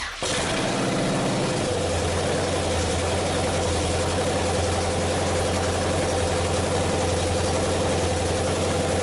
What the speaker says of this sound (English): I'm gonna start it back up and let it run.